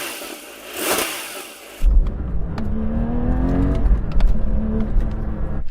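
A car engine revs up loudly and close by, its tone climbing steadily before easing off, following a brief burst of rushing noise at the start.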